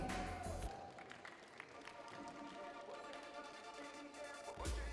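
Scattered clapping from a small crowd, steady throughout with some voices and cheering mixed in, moderately loud.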